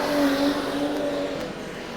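A modified production race car roars past at speed on Carina Speedway, Queensland, its engine tone steady then easing slightly as it moves away, loud and continuous.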